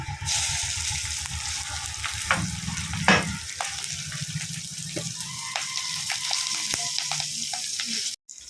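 A bay leaf and slit green chillies sizzle in hot oil for Bengali lau ghonto, a loud frying hiss that flares as they go in, with stirring clinks and scrapes, then fades toward a quieter simmer.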